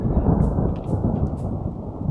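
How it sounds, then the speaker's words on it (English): Thunder from a lightning storm in the game Vintage Story, a steady low rumble with rain-like hiss that stays loud and dense throughout. "And also there's still lightning underneath."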